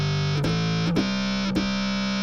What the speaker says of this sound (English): here's the sine wave.